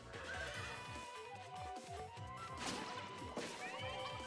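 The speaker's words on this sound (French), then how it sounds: "Ah, je peux y aller avec le cheval." Horse whinny from the Miitopia video game on Switch, rising over a dense, loud bed of game music and battle sound effects, with hoof-like thuds and crashes scattered through.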